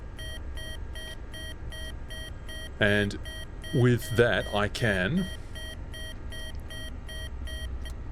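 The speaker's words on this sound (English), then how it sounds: "That's a notification that all the gongs are working correctly and alarms." Cockpit warning alarms sound in a Dauphin helicopter in the MSFS 2024 flight simulator game, a steady train of repeated electronic beeps. Someone talks briefly over them partway through.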